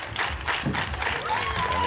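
Crowd at a women's doubles badminton final of the world championships in Dubai applauding and cheering on their feet, a steady dense roar of clapping and voices filling the arena.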